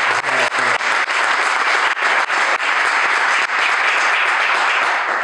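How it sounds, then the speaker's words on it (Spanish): Loud, even applause from an audience at a panel discussion on sexual dissidence and repression, thick continuous clapping held for about five seconds after a brief voice at the start. "un fuerte aplauso"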